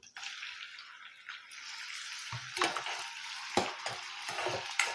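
Finely chopped onion and garlic frying over medium gas, with a steady sizzle that swells after a few seconds and several clattering stirs of a spoon in the pan, close by.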